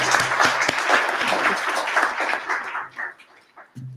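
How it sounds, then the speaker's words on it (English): Audience applause at an international conference on AI, security and ethics, lively clapping from a seated crowd that thins out after about three seconds into scattered claps. "Can we please join me in giving a round of applause to Scott as he has to leave early."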